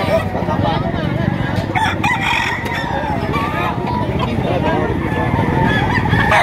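Roosters about nine months old crow repeatedly at a livestock auction in Padre Garcia, Batangas, loud and close over a busy hum of clucking fowl and people talking.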